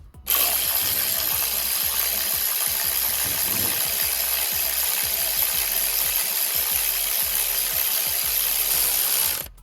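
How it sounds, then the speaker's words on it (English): Hand ratchet driving a bolt on the starter motor of a 2006 Toyota Yaris, rapid continuous metallic clicking up close without pause for several seconds. "I'm gonna basically not tighten up on this bolt, but take it all the way in."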